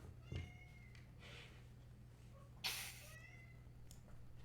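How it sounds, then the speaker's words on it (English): A cat meows faintly several times at uneven intervals, with one brighter, sharper cry near the middle, heard over a low steady hum and soft background noise, with no talk. "The cat only shows up when we're talking money."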